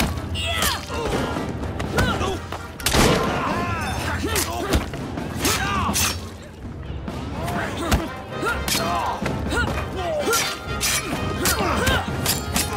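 Gunfire and violent scuffle impacts in Assassin's Creed Syndicate, sharp repeated cracks, thuds and crashes in a dense, loud, irregular run, with a voice speaking over the fighting.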